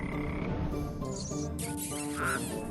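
A frog croaks repeatedly, close and fairly loud, woven into a busy mix of music and other sound effects in an animated story.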